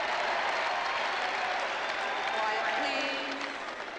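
Tennis crowd at the 1990 US Open applauding Gabriela Sabatini, a dense steady wash of clapping that fades slightly toward the end, with voices mixed in.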